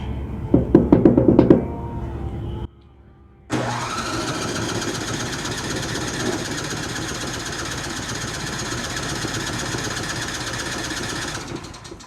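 A Craftsman snowblower's small engine sputters and cranks briefly, pauses, then starts and runs steadily at a loud, rough idle close by.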